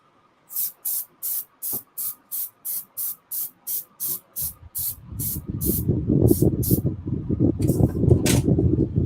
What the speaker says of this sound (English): Right, let's spray the cupboard.